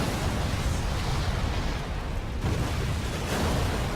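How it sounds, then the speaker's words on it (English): A fiery explosion in Final Fantasy Type-0 HD gives a dense, sustained roaring rumble of fire and debris, loud and unbroken for several seconds, with a brief dip midway and no voices. "And then just blows up in a fiery explosion."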